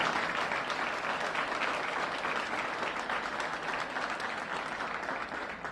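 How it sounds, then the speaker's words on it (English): A crowd applauds at an Illinois governor's bill-signing ceremony for a food-deserts law, with dense, sustained clapping that fills the room and holds steady before tapering slightly at the end. "Please join me in applauding them."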